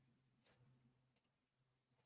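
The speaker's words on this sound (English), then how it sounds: "No, that's the cricket." A single cricket chirps indoors in three short, sharp, faint bursts spaced apart, over a quiet room with a low hum.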